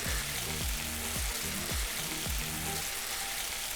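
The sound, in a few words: patties frying in pan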